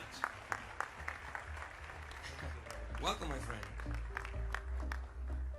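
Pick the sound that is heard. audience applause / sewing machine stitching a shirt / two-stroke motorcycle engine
audience applause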